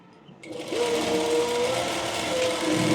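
A sewing machine stitches a half-inch shoulder seam on a layered frill frock, starting up after a brief pause and then whirring steadily and close without a break.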